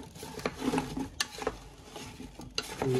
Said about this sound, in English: I'm just gonna give it a quick stir. I want to see if I can get everything coated with a little bit of butter.